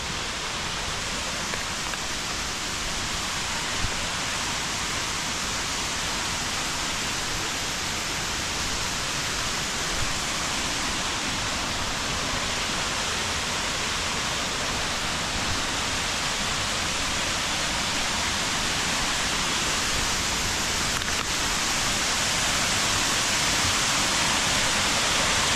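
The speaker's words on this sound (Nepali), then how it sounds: "ए झर्ना" Shivapuri waterfall rushing in a steady, loud, unbroken roar of falling water that fills the whole span evenly, with no voices over it.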